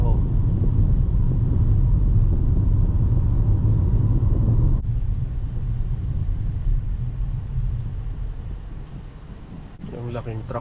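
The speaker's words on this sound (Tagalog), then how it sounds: "Yung laking truck nito" A big Walgreens truck travelling on a road during holiday-week traffic, heard as a steady loud road rumble and wind roar from inside a moving vehicle, easing slightly midway.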